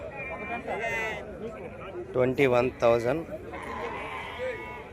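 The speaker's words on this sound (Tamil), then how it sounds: "50 ஆடு இருக்குது இங்கெல்லாம்" Sheep bleating at the Gudur sheep market, a few loud close bleats in quick succession with fainter bleats around them and people talking throughout.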